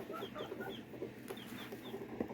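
Backyard hens clucking inside a coop, a steady run of short repeated clucks and murmurs from several birds close by, with scattered louder calls over continuous low flock chatter.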